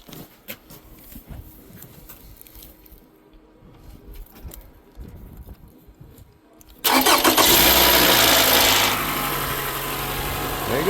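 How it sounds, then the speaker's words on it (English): A 2013 Toyota RAV4 2.5 fresh from an alternator, tensioner, belt and battery replacement is heard after some quiet shuffling, then the engine cranks and fires loudly before settling into a steady, close idle. "And then you start the car."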